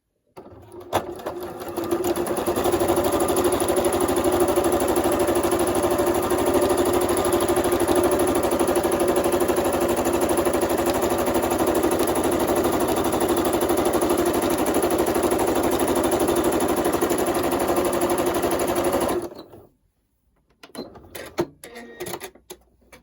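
A sewing machine runs nonstop at high speed for about eighteen seconds during free-motion quilting with gloves and red thread, a loud, even mechanical whir that cuts off abruptly, leaving faint handling noises.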